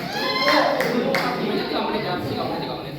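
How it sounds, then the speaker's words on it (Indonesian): An audience at a school history debate claps for a debate group, a short burst of applause mixed with overlapping voices that fades after about a second. "Tepuk tangan dulu untuk kelompok."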